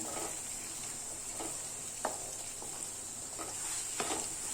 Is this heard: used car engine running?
no